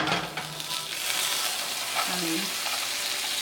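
Butter sizzles and fries in a hot pan while cooking a turkey lettuce wrap, a steady close crackle filling the short stretch, with a faint stirring scrape.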